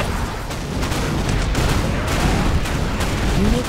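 Dense, continuous battlefield barrage of artillery and gunfire from C&C Generals Zero Hour with the Contra 007 mod, a rumbling wall of overlapping booms and shots holding steady throughout with no voices.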